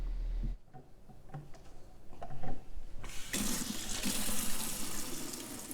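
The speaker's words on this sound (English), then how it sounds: "And rinse the fresh peaches in cool running water." Cool tap water runs into a sink for rinsing fresh peaches, a steady close splashing stream that begins after a few quiet seconds with faint handling clicks and continues loud and unbroken.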